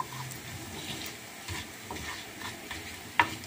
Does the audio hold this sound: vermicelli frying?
yes